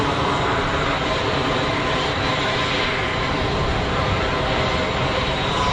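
An easyJet airliner taking off at Geneva Airport, its engines a loud, continuous broadband roar that holds steady throughout, heard from outdoors with no voices.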